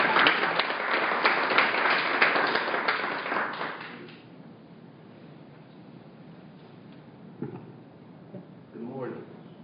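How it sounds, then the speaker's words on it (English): A conference audience claps warmly for an introduced speaker, loud applause for about four seconds before it fades to room quiet with a couple of faint knocks. "So please give Aubrey a little bit of applause"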